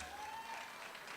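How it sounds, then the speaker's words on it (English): Audience applause at a scholarship awards ceremony, a steady wash of clapping held throughout at even loudness, with no voices over it. "yes, you should clap for"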